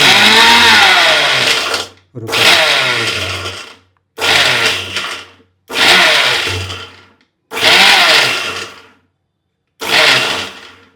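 Mixer grinder coarsely grinding masala for tondekayi (ivy gourd) curry, run in six short pulses of roughly one to two seconds each with brief silent pauses between, loud and close.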